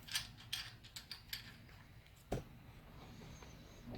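Mechanical clicks and ratcheting from loosening a valve adjustment tool on a VW Bug engine in a workshop, several sharp taps early on and one louder clack midway, over a steady low room hum.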